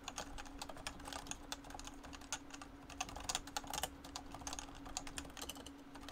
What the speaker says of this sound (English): So here's typing, softer typing.